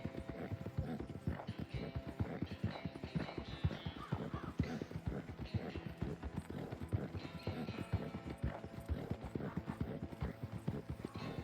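Hooves clip-clop continuously and close as a horse is ridden in Red Dead Redemption II, a steady rapid rhythm running the whole stretch with little else over it.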